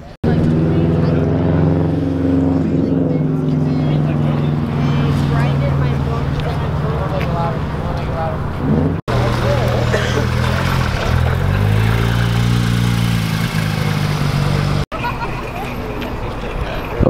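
A Lamborghini Diablo drives past at a Cars and Coffee meet in Denver: a loud, steady engine drone fills the whole stretch, swelling and fading with the pass, under continuous crowd chatter and people talking.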